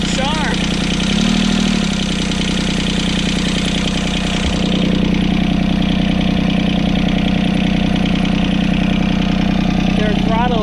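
A John Deere 2653A mower's three-cylinder Yanmar diesel idles steadily up close, a loud, even low rumble throughout, with a brief throttle change early on.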